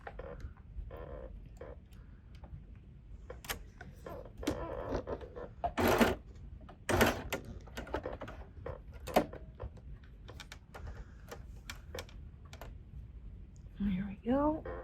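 Sewing machine running a short back stitch while upcycling clothing, a burst of rapid mechanical clicking and whirring bursts amid quieter handling noises, with a person talking nearby.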